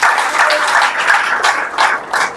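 An audience at a spiritual discourse claps loudly by hand in steady, overlapping bursts that swell and fade across a few seconds, with no voices on top.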